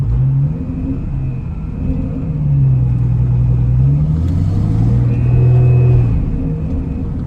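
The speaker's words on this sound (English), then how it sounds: "I'm gonna have to do a lot of trimming on this video because I keep getting distracted by changing gears." A manual-transmission car accelerates through its gears, the engine note climbing, dropping at each shift and rising again, loud and steady from inside the cabin.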